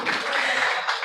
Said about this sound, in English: Please, you deserve a round of applause.